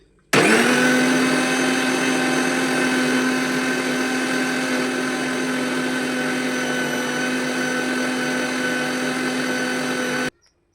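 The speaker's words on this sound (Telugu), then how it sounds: "దీన్ని ఇప్పుడు షేక్ చేసుకుందాం." A blender motor whirs to mix a Herbalife protein shake of protein powder and water, starting abruptly and holding a loud, steady, droning hum for about ten seconds before stopping.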